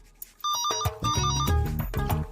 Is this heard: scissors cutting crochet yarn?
no